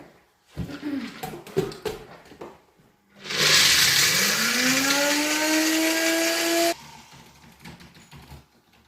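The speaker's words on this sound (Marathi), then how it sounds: "तोपर्यंत आपण फटाफट जे शेंगदाणे आहेत त्याचं आपण कूट करून घेऊयात" An electric mixer grinds roasted peanuts into powder in a burst lasting about three and a half seconds, its motor whine rising steadily in pitch, preceded by a few clacks and handling knocks in a quiet kitchen.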